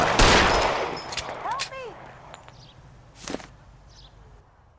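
Gunfire in the crime game L.A. Noire, a few sharp cracking shots with ricochet-like whines and scattered impacts, fairly close and fading into quiet.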